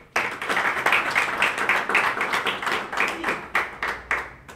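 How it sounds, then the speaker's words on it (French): An audience applauds young people at the opening of an NGO's fourth youth centre. The clapping is close and crisp, a dense burst of hands that swells and pulses steadily throughout, with no talking. "Applaudissez pour eux."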